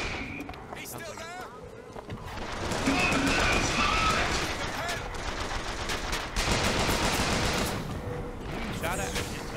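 Bursts of automatic gunfire and rapid shots in a BioShock Infinite firefight, loud and sustained through most of the stretch, with a voice talking over the battle.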